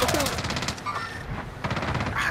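Rapid automatic gunfire in the Warzone video game on Rebirth Island, two bursts of quick repeated shots separated by a short pause, moderately loud, with players talking alongside.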